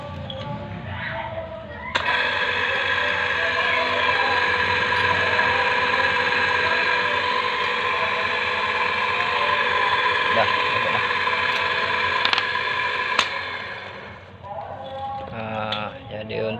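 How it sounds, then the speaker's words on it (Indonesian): Sanyo electric water pump motor, clogged with dirt, droning with a loud steady hum and buzz for most of the stretch, with a few clicks and some handling noise at start and end. "Untuk mesin pompa Sanyo ini dia berdengung karena banyak kotoran seperti ini sehingga menyebabkan dia jadi berdengung"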